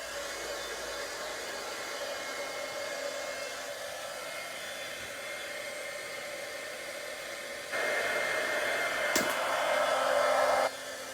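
Steady airy whoosh of a heat gun warming embossing powder on a handmade Halloween card, a constant close hiss that grows louder near the end, with no talk.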